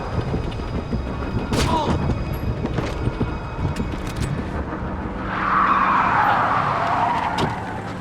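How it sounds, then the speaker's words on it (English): In the Splinter Cell Conviction video game, a car engine and rumbling action sounds lead into a loud tire screech as the vehicle skids up near the end, amid scattered bangs and voice chatter. "Time to go, Sam. Your ride is here"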